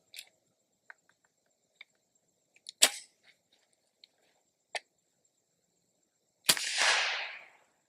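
A Bear Creek Arsenal BC-101 rifle fires one loud, sharp shot with a decaying outdoor report late in the clip, after scattered small clicks and handling taps.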